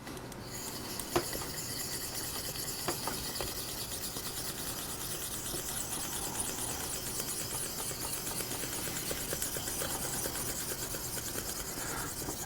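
Straight razor blade worked in pinch-grip circles and X strokes on a Shapton glass stone, a faint, steady scraping hiss continuing throughout with an occasional light tick.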